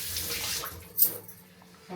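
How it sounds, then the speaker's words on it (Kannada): Water pours in a quick splashing rush while a home-style fish curry is being cooked, a short burst that peaks at about one second and then fades. "ನೀರು ಹಾಕ್ತೀನಿ"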